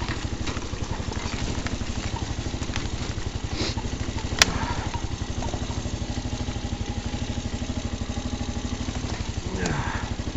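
An Elstar Tank 250cc quad's engine chugs with a steady, rapid mid-pitched pulse while riding over icy, rough ground in the cold, close and continuous with occasional clatter from the terrain.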